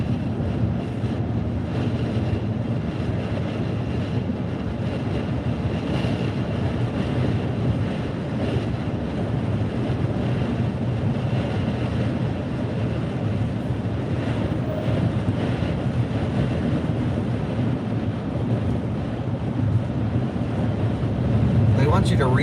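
Strong headwind buffeting a Rivian R1T pickup climbing a hill on a road trip, a constant loud broadband rush and rumble that fills the whole stretch without pause.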